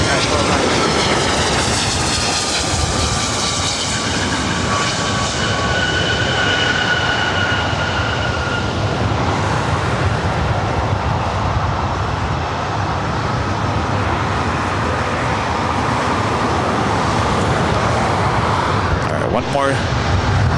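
Aircraft taking off at Los Angeles LAX airport, with a broad, steady jet roar that persists loudly throughout and a faint high whine fading partway through.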